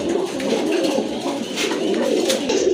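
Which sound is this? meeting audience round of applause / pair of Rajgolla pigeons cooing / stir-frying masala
pair of Rajgolla pigeons cooing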